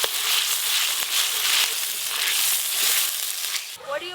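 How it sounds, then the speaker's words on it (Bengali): Ginger, garlic and onion paste frying in a pan, a loud continuous sizzle and crackle that cuts off near the end. "আদা রসুন আর পেঁয়াজ ভালো করে ভাজা ভাজা হয়ে গেছে।"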